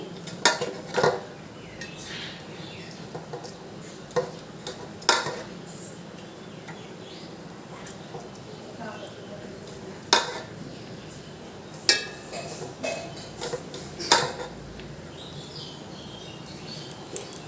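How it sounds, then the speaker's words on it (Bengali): Rice for mutton biryani is spooned into a pot in repeated scoops, each one a sharp metallic clink or scrape of a spoon against the pot, spaced irregularly over a quiet kitchen background. "আবার কিছুটা ভাত দিয়ে দিচ্ছি"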